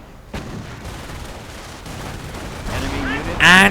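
BAR rifles fire in a World War II strategy game battle, with rattling shots and distant booms building into a louder burst at the end.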